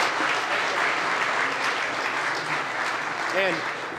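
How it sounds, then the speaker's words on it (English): An audience at a university pitch challenge applauds steadily throughout, a dense wash of clapping with voices mixed in. "give him another round of applause for that"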